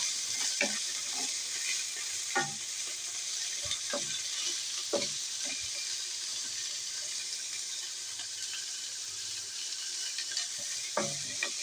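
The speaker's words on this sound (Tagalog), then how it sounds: "I-stir fry lang natin" Ampalaya (bitter gourd) and pork stir-fried in a pan, a soft continuous sizzle broken by irregular scraping stirs and clacks of the spatula, fairly close, with no talking.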